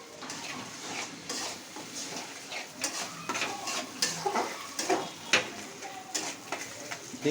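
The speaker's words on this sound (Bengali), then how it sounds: "ভালো করে নাড়তে হবে ডিমটা" Eggs being stirred in a pan for egg noodles, with busy clinking and scraping of utensil against cookware over a soft sizzle, rhythmic and close, with faint background sounds.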